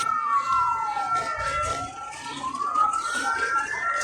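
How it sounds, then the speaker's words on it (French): An ambulance siren wails in a steady rise-and-fall sweep as it approaches, heard at a moderate distance over faint background noise, with no talking. "Ouais, c'est l'ambulance."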